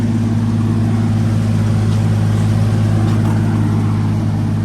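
A turbocharged Lexus LX450 FZJ80 engine runs steadily, a loud, continuous low droning hum with a constant pitch, close by and alone without talk.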